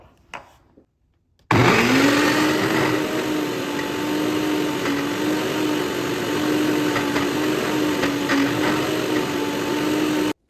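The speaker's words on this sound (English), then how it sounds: "Then blend again until it's silky and rich." Blender on a steady, loud whirring run as it blends an avocado ice cream mixture of milk, cream and milk powder, starting abruptly after a brief quiet moment and holding constant until it cuts off at the end.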